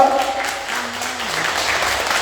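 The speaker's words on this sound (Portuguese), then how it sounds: "Então uma salva de palmas para Nossa Senhora," A church congregation claps for Our Lady during a service, a dense, steady round of applause that carries through the whole moment, with a brief voice at the start.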